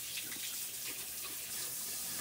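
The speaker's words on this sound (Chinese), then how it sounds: "自己洗手哈" A water tap runs in a steady, hissing stream as a child washes hands at a sink, the flow continuous and close with no voices.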